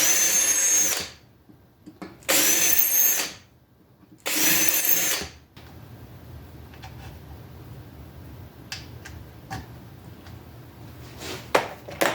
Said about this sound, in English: We'll use an 1/8 inch drill bit and come through and open all these up.